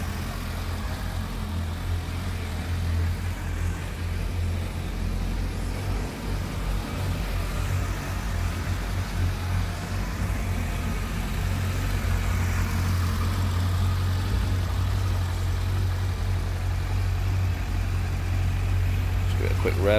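A Suzuki Bandit 1250 S motorcycle engine runs at a steady low idle, a deep continuous rumble heard up close the whole time with no talk over it.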